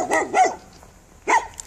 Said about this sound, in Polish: Jakiś pędel szczeka szalony.